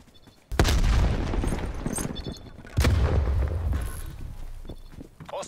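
Two loud booming gunshots in the video game Call of Duty: Black Ops Cold War, each followed by a lingering rumble, with faint clicks between.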